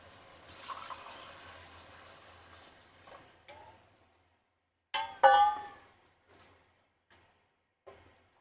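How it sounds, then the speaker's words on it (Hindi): Water pours briefly into a clay cooking pot, followed by a few clinks and short splashes amid quiet pauses. "दो गिलास में इसमें पानी डाल रही हूँ"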